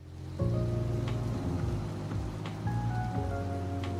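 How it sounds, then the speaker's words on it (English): Heavy rain falls in the Trails Through Daybreak video game, a steady hiss layered under sustained game music that continues throughout. "by the time they returned to Old Town, the rain was coming down more heavily."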